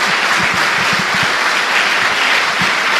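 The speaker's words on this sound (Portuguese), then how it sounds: "Dê uma salva de palmas a Jesus." A church congregation breaks into loud, sustained applause for Jesus, a dense, continuous wash of clapping with a few heavier thumps mixed in.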